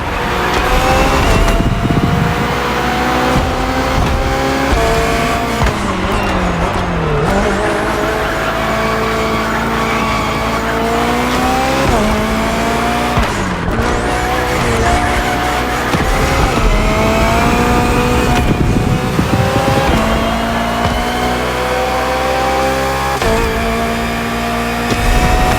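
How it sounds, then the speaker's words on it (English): A BMW hybrid V8 race car in the racing game The Crew Motorfest roars loudly and continuously, its engine revving up and down through gear shifts, with tire squeal mixed in. "The Hybrid V8 will do the rest."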